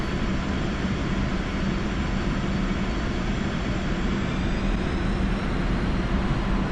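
Su-25T jet engine in the DCS flight simulator, throttled back to lose airspeed on a landing approach: a steady, dense roar that stays even and unbroken throughout, with no talking.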